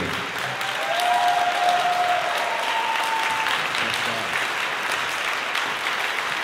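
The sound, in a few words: audience applause for Jazz Band A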